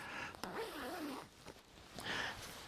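The short zip on a Mythic Ultra 120 down-filled sleeping bag is pulled in a few quick, close, rasping strokes, quiet and alone with brief pauses between them.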